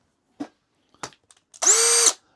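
A battery-powered cordless drill whirs in one short, loud burst after a few scattered clicks and handling taps on a workbench.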